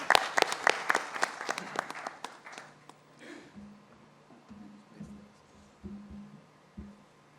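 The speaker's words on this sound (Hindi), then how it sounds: "एक बार ज़ोरदार तालियां मधु जी के लिए" Audience applause for a guest at a music video launch, a burst of sharp claps in the first few seconds that thins out and fades into quiet room noise with low murmurs.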